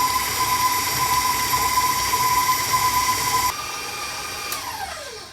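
An electric mixer beats matzo ball batter with a loud, steady whine and drone. Partway through the speed drops, the pitch falls and the machine winds down near the end. Nobody speaks.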